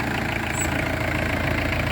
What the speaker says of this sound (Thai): เกียร์น้ำมันเกียร์ความร้อน วัดรอบเก็บไว้ครับ สตาร์ทติดง่ายครับผม ไม่ต้องเผาหัว